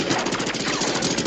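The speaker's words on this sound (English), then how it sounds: "gunfire rains down from the approaching patrol boat" Rapid, continuous gunfire pours from an approaching patrol boat in an action movie, a dense rattling barrage that fills the whole moment.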